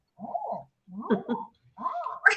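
A person makes three short, warbling clucking calls imitating a chicken, each burst rising and falling, separated by brief pauses.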